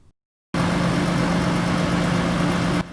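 A city shuttle bus engine idles steadily in Indianola, a close, constant rumble with a low hum, starting abruptly after a moment of silence and cutting off near the end.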